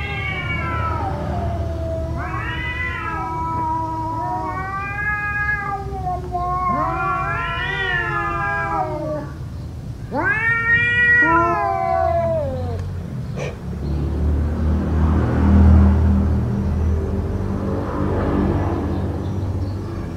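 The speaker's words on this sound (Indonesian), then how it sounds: "Apa itu suara kucing?" A cat meows repeatedly and loudly in a series of drawn-out, wavering calls, then falls quiet as a low rumble and background noise fill the remainder; no speech is heard.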